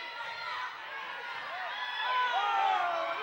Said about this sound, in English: they heard from the crowd on that one